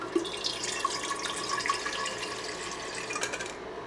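Water poured from an antique tea kettle, a close, soft trickle with small splashes and drips that runs steadily for a few seconds and then stops.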